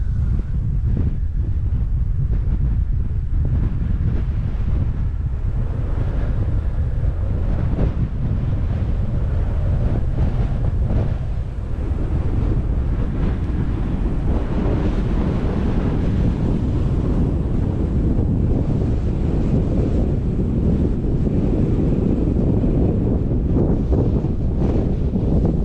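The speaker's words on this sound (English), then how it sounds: "Sound might be a little bad. It's getting quite windy." Strong gusting wind buffets the microphone on the Coral Pink sand dunes, a heavy continuous low rumble that swells and eases without pause and drowns out everything else.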